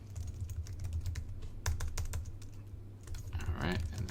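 Email address typed on a computer keyboard, a close run of crisp key taps over a steady low hum from the room or computer, with no talking.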